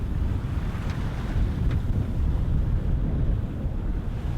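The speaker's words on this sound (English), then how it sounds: "The wind also shifted a little bit, so maybe we have to move the head sail" Wind roars steadily across the microphone aboard a sailboat at sea during squalls, a loud, continuous buffeting rush with no speech.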